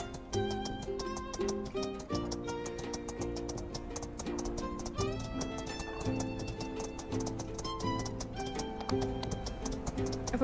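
Rhythmic horse hoof clip-clops trot along steadily in the video game My Time at Sandrock, over continuous background music with sustained tones, moderately loud throughout.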